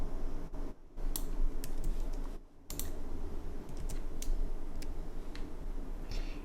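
Steady, quick typing on a computer keyboard with soft clicks and occasional louder key taps, close and fairly quiet, with brief pauses.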